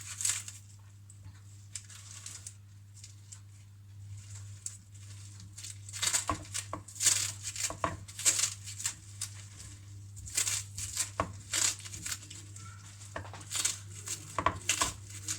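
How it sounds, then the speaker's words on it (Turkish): Red cabbage chopped by hand in the air with a knife, no cutting board: a run of crisp, irregular crunching cuts, close and fairly faint, over a steady low hum. "Yine elde doğruyorum. Tahta kullanmadan arkadaşlar."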